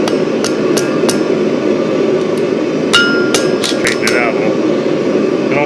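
A small hammer strikes steel at an anvil with light glancing blows, a handful of sharp, bright clinks at irregular intervals over a steady background hum.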